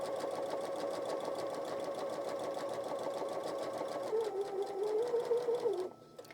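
Sewing machine running steadily as it stitches a 1/4 inch seam on a composition notebook cover, a continuous close motor whir with a slight pitch drop near the end before it stops abruptly.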